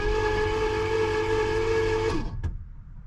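A 1966 Pontiac Grand Prix barn-find engine cranks steadily on its starter, a loud continuous churning drone that runs for about two seconds before abruptly cutting off, followed by a brief clunk and quiet.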